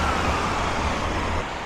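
An emergency vehicle siren wails along a rainy road in Blackpool, a steady loud tone over traffic and wet road noise, with a slight pitch drop as it passes.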